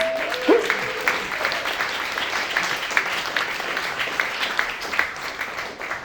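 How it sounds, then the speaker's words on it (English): An audience at a Shoreditch hospitality venue applauds the venue team, a steady patter of many hands at moderate distance that holds through the stretch, with a brief voice at the start. "So a big round of applause to the team"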